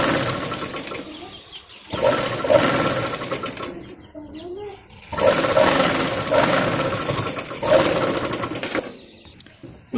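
A sewing machine stitches sleeves onto a small girl's top in several loud running bursts separated by short pauses, with a voice heard between and under the stitching.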